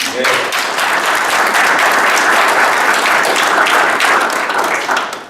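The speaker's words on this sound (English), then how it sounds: "So let's give another round of applause for Peggy." Loud, sustained applause from an audience at a gubernatorial campaign kickoff in Duluth, Minnesota: dense clapping that holds strongly for over five seconds before tapering at the end.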